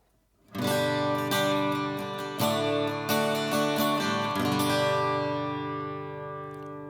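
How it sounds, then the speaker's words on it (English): Strummed carbon fiber guitar chords ringing out with a wide, lush reverb tail, several strums blending together before the sound slowly fades away. "So there you are, nice lush reverb, which just fills the room."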